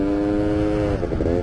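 New quad bike engine running in during break-in, a loud close steady drone that rises slightly in pitch and wavers near the end, heard alone.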